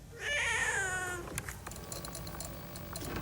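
A single drawn-out meow from a nearby cat, loud and wavering, followed by soft clicks and rustling.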